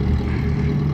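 A private plane's engine runs loud and steady at high power, with a continuous low droning roar and no voices over it.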